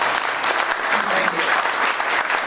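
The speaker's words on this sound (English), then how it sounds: "I want a hand of applause for Councilman" An audience at a community meeting claps for a councilman, a continuous loud burst of many hands sustained across the whole stretch, with faint voices mixed in.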